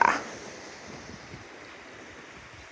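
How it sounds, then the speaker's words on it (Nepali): Torsa river rushing below the Amachu suspension bridge near Phuentsholing, a broad distant roar of flowing water with some wind, steady and low after a brief louder burst at the start. "तल चाहिँ तुर्सा रिभर हो, तुर्सा रिभर।"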